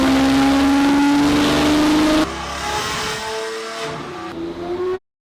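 A rebuilt, previously crashed Lamborghini SVJ accelerates hard, its loud rising engine note climbing through several gear changes before cutting out abruptly.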